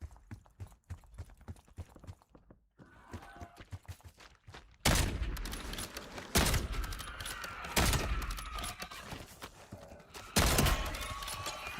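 Sniper rifle fire in an online shooter video game: four sharp, loud shots spaced a couple of seconds apart, each ringing out over quieter game ambience.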